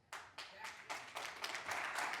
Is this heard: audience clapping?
yes